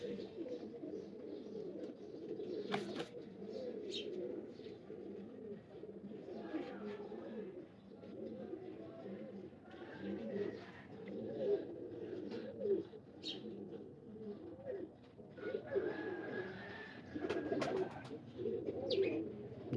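Pigeons at a kabootar show coo in soft, repeated throaty rolls, with occasional chirps and sharp clicks, heard close but quiet under intermittent talk.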